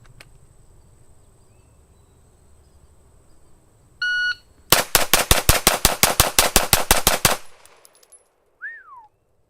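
A Smith & Wesson M&P 2.0 pistol with a 5-inch long slide empties a 15-round magazine at 7 yards in rapid fire: a short electronic timer beep, then a fast, loud, evenly spaced string of sharp shots, with a faint chirp after.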